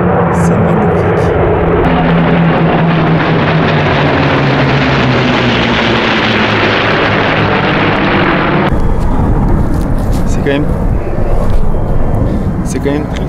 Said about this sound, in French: Voilà les 7 avions de la Seconde Guerre mondiale